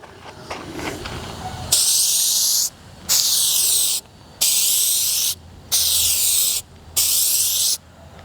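An aerosol can sprays a coating onto a car headlight in five crisp, loud hissing bursts, each roughly a second long, separated by short silent gaps, with faint handling noise before the first burst.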